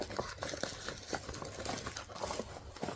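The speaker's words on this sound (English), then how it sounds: "it sounds crunchy. That's the interfacing on the lining." Crisp crinkling and crunching of stiff fabric interfacing on a lining being handled and turned inside out, a steady run of small papery rustles close by.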